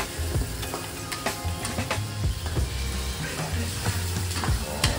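Salted fish and petai stir-frying in a pan, a close, busy sizzle broken by repeated clanks and scrapes of a spatula against the metal, steady throughout.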